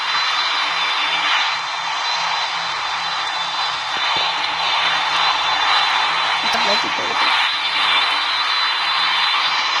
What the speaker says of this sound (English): So we are taking off.